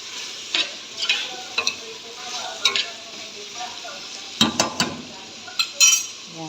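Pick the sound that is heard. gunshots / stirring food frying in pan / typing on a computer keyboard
stirring food frying in pan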